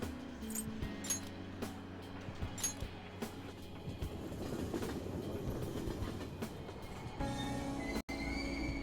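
In the Persona 5 Royal video game, a train at a station rumbles steadily with clickety-clack wheel beats and squealing metal, followed by a sharp break and a new higher hum as it shifts.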